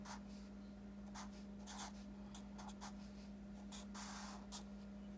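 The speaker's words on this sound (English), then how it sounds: "And let me write in row 3." Scratchy pen strokes of someone writing out row 3 of a matrix, in short irregular bursts over a steady electrical hum, with no talk.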